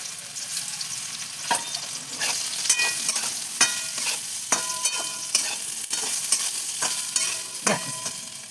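Soya chunks and eggs fry in hot oil in a kadai, hissing steadily while a spoon stirs and scrapes the pan in irregular sharp clinks.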